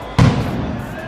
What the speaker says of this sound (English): Well, you just heard the cannon.